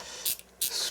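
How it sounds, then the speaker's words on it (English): Two bursts of a hand pump spray bottle misting water onto a watercolour painting of a misty winter forest, each short hissing spritz close and fairly loud, separated by a brief pause. "the spray will help"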